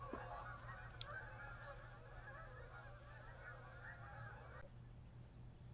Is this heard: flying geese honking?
yes